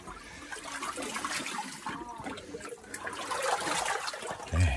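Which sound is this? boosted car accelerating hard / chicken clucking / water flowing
water flowing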